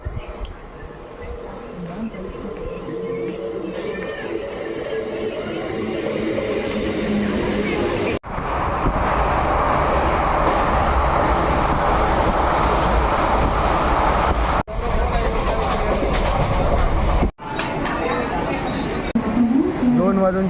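A train pulls into Umroli railway station, a deep rolling rumble swelling and holding loud and close, with faint voices on the platform beneath it.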